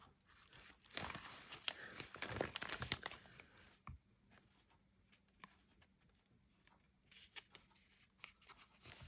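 Quilt fabric pieces are ripped off by hand in a burst of close, crackly tearing and crinkling, followed by sparser, quieter rustles and small rips.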